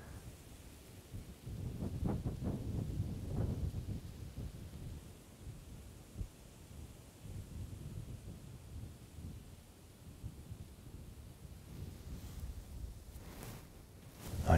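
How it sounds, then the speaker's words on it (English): Wind gusts buffet the microphone up in a tree at night in low, rumbling surges, rising and easing over time, with faint rustling in the background. "It's gonna be a windy one up there tonight, I think."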